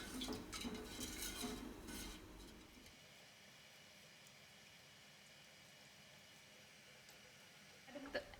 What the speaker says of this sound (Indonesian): Masak dengan api sedang sampai mendidih sambil diaduk-aduk terus.